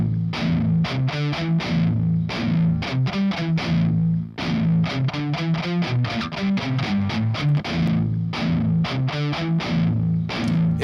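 An electric guitar through a crunchy distorted amp preset, miked with an SM57, playing a rhythmic riff of chugging chords and single notes, loud and close, with clear note definition and brief gaps between phrases.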